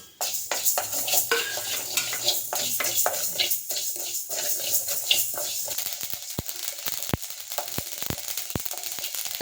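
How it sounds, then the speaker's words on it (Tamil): Mustard seeds and fenugreek dry-roasting in a pan for a citron pickle, giving a dry rattling stir with scattered clicks and light sizzle, then sharp pops from the seeds near the end, close and fairly loud. "கொஞ்சமாக கடுகு கொஞ்சம் வெந்தயம் எடுத்திருக்கேன் இதையும் வறுத்து எடுத்துக்கலாம்"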